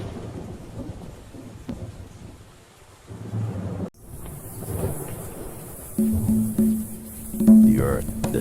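A thunderstorm rumbles over an island, with low rolling thunder and steady rain under a narrating voice, a sharp crack partway through, and a deeper swell toward the end.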